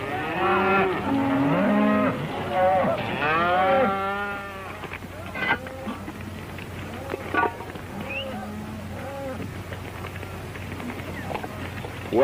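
Cattle moo repeatedly in long drawn-out lowing calls at an old-time western cattle operation, loud and near at first, then giving way to scattered thuds and shuffling.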